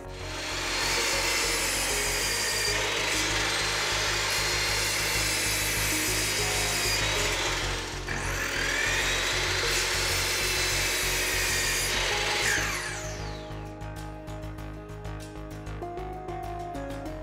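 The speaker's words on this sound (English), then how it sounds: "So we're going to start with my chop saw" A chop saw cuts wood with a dust collector hooked up, a loud steady whine and grinding cut running for about twelve seconds before the blade spins down, with the collector's rushing hum continuing underneath.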